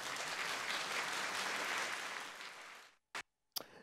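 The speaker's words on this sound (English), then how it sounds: "Clap for me." A talk show studio audience applauds with a dense, lively wash of clapping that fades out around three seconds, followed by near silence and two short sharp sounds.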